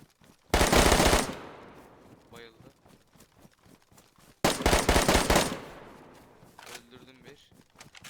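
Bursts of automatic gunfire in the video game DayZ, two loud rapid volleys of about a second each, separated by quieter footsteps and movement sounds.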